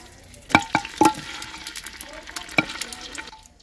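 Chopped onions drop into hot cooking oil in a clay handi, giving a few sharp crackling bursts that settle into a light, steady sizzle close by.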